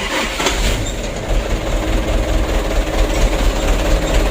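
A Mitsubishi Canter 125 PS truck engine running after starting, a loud steady diesel rumble with rattling, close and continuous throughout.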